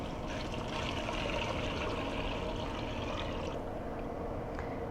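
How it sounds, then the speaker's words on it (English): Water pours steadily into a pot of soaked chickpeas with a continuous, soft, close-up splashing rush. No one speaks. "After 3 minutes, go ahead and add in your water."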